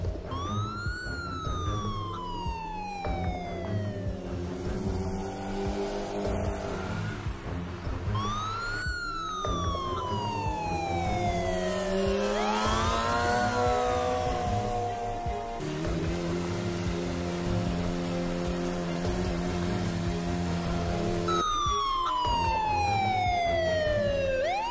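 An ambulance siren wails continuously, its pitch sweeping up and down in long repeating cycles, loud and steady throughout.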